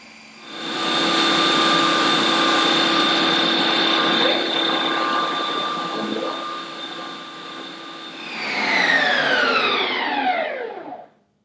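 A Ninja Creami machine spins and processes a tub of vegan caramel ice cream, giving a loud, steady mechanical whir with a high whine, then a rising-pitched surge near the end before it cuts off abruptly.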